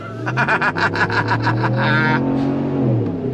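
A 2026 RAM 1500 Limited with a Hemi V8 and eight-speed automatic rumbles loudly in a steady, deep idle, pulsing with quick throttle blips that fade after about two seconds into a lower, settled drone.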